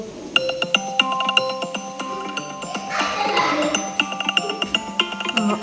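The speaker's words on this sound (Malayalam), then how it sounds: "ഫോൺ ബെല്ലടിക്കുന്നു" A mobile phone rings with a repeating melodic electronic tone, steady and fairly close, with no talk over it.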